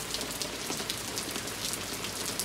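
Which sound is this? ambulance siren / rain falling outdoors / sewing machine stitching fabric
rain falling outdoors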